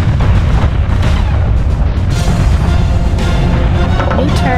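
Turret explosions and heavy weapons fire in the real-time strategy game State of War on an Alaska map, a dense, loud barrage of booms and blasts with no letup.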